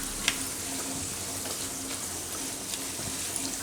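Pasta fried rice with chili flakes and pizza sauce is stirred in a hot pan, giving a steady soft sizzle with a faint scrape or two, close and moderate in level, with no voices.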